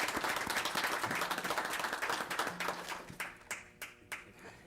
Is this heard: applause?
yes